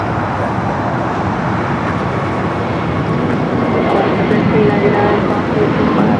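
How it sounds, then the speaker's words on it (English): United Airbus A321neo airliner departing Los Angeles, a steady loud broadband engine roar held throughout, with faint radio chatter underneath. "we got that United A321 Neo up next"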